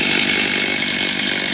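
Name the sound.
chainsaw idling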